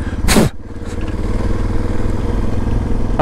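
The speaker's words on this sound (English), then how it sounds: "Both bikes are handling the dirt just fine." Suzuki DR650 dual-sport motorcycles ridden on a dirt trail at high altitude, around 10,000 feet, with a steady low engine rumble and wind buffeting close to the helmet, plus a brief loud burst of wind or clatter near the start.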